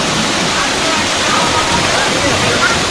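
Flooded river water rushing after heavy rain, a steady, dense roar of churning water that stays loud and continuous throughout.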